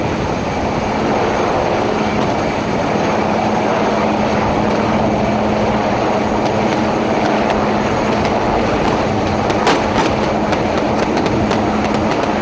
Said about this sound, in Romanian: Elicopterele și focurile de armă trase de către militari dintr-un elicopter de luptă